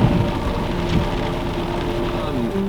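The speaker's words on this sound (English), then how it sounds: "I don't think the rain's letting up." Heavy rain pours steadily during a desert storm, a dense continuous wash of sound with occasional low rumbles, heard close and loud without a break.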